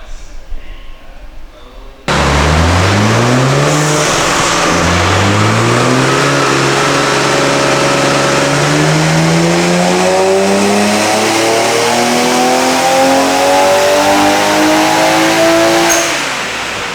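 A 1JZ-engined Nissan Skyline roars on a dyno, loud and close, revving up through the gears in repeated rising pulls that climb in pitch, with the engine note filling the whole run before easing off.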